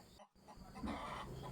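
A black chicken clucks close by in a brief, fairly faint burst of a few throaty clucks after a short gap of quiet.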